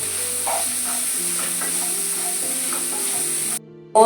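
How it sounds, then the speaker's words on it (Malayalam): Onions sautéing in a pan with salt for a chicken curry, a steady close sizzle with faint stirring scrapes that cuts off abruptly near the end. "ഇനി ഇതൊന്ന് വഴന്ന് വയ്ക്കാം കേട്ടോ."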